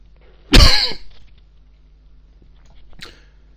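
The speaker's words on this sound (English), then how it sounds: "I'm still struggling with this really irritating cough." One loud, harsh cough erupts close by, followed a couple of seconds later by a fainter, shorter second cough.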